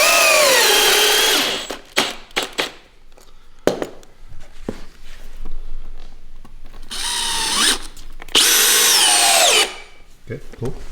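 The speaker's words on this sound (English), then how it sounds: "The DeWalt, if I lay on the trigger, it would just go right through the board." A 12V DeWalt cordless drill drives through a board in loud close bursts, its motor whine spinning up and down between short pauses and quieter handling noises.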